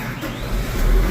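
A new 8R farm tractor's engine turns over and catches, a dense, loud mechanical roar that swells over about a second.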